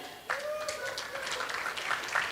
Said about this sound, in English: A little more applause, please.